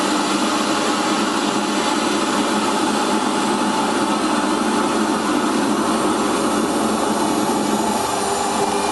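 A flycutter cuts metal on a milling machine, giving a loud, steady broadband roar and whine that holds unbroken throughout.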